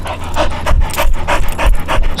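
An Australian Shepherd–terrier mix dog pants close by in a quick, steady rhythm of breathy huffs repeating throughout.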